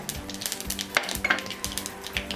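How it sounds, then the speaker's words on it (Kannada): Mustard seeds crackle and pop in hot oil for a raw mango poha tempering, a busy run of close, sharp sizzling snaps with a couple of louder pops, no voices. "ಸಾಸಿವೆ ಒಂದು ಸ್ವಲ್ಪ ಚಿಟ ಅಂತ ಆಗಲಿ."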